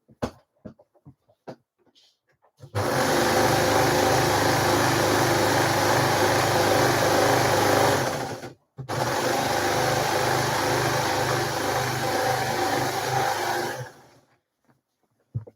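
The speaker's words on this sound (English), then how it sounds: "I'm going to just overlock these side seams" An overlocker sews the side seams of a Frida blouse. It runs in two long, steady, loud whirring bursts with a short stop between them, and quiet clicks and handling sounds before and after.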